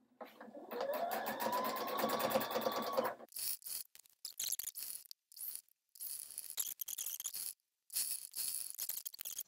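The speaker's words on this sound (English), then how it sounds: "so high enough so I was sewing through both fabrics" Sewing machine stitching through layered sweater knit and ribbing, a steady close whirring run for about three seconds, followed by short choppy bursts of handling and machine noise with brief gaps.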